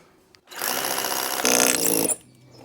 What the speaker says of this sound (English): kick the drill towards that wall a bit